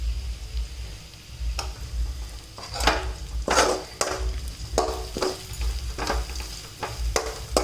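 Food frying in a pan is stirred and mixed, with a steady sizzle under repeated scraping and clinking strokes of a utensil against the pan at an uneven rhythm.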